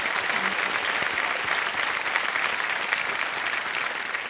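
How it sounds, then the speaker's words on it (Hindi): A television quiz show studio audience breaks into steady, loud applause, a dense wash of many hands clapping evenly throughout with a faint crowd murmur underneath. "तालियां बज जाए एक बार इनके लिए"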